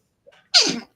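One sharp, close human sneeze bursts out loud after a brief breathy intake, then cuts off into silence.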